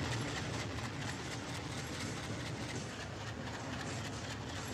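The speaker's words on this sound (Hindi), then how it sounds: "अपने ट्रेन को पूरा निकल जाने दीजिए" A passenger express train in Trainz Simulator rolls along the rails on the Balurghat–Kolkata route, its dense, steady rumble and rail rattle holding loud and unbroken throughout with no talk.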